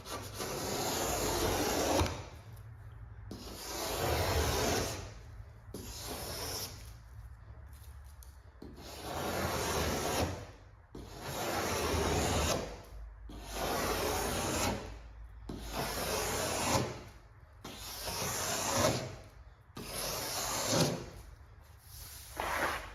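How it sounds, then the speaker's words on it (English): A razor blade scraping paint and primer off the body of a 1967 Chevrolet Nova, loud rasping strokes repeated in a steady rhythm of about one every two seconds, up close with no talk. "New method, I'm gonna use the old razor blade."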